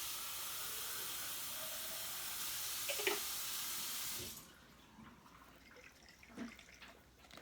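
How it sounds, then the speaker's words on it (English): Water pours steadily from a tap into a 16-ounce container in a home kitchen, a loud even hiss for about four seconds before it cuts off, leaving quieter faint clinks. "And then I'm going to fill this up with water."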